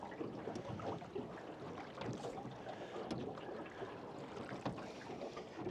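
Quiet rowing on water during a fishing outing: faint periodic oar splashes and creaks under soft wind noise, distant and low in level, no voices.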